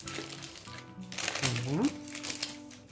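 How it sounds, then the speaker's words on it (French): Baking paper being peeled slowly off a rolled chocolate log cake sponge, a soft continuous crinkling and rustling close by, with a person speaking over it. "Et j'enlève le papier cuisson petit à petit, tranquillement."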